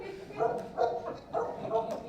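Dog barking indoors at a house, about four evenly spaced barks over a couple of seconds, moderately loud, with speech in the background.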